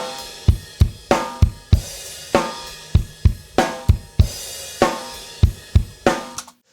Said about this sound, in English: in the choruses and the rest of the song, outside of the verses, the drums are a lot more natural